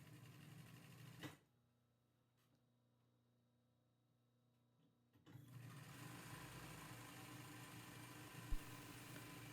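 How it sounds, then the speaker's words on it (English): A sewing machine runs a plain straight stitch across the tops of canopy bed curtain panels, a steady close mechanical whir that stops briefly for a quiet pause, then resumes in a longer run. "So just a regular straight stitch across the top to sew them together."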